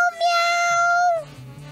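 A person imitates a cat with a long, drawn-out meow in a high, wavering voice, followed by low mumbled talk.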